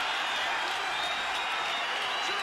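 A London crowd at a fight roars in a huge sustained cheer, dense and continuous at a steady loud level from start to finish.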